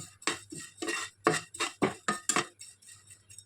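Flattened rice (chira) is stirred and dry-fried without sand in a clay pan, a steady series of about eight rustling, scraping strokes at a regular pace. The strokes are close and distinct, with a faint low hum beneath and no voices.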